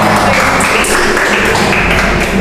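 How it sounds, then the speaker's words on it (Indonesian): Audience applause at the final round of a student ambassador pageant, a dense, loud, steady wash of many hands clapping that fills the whole moment with no talk over it. "Tepuk tangan dong."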